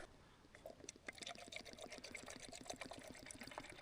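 Water poured into a bowl in a hotel room at night, a steady, fairly quiet splashing trickle lasting a few seconds with no voices.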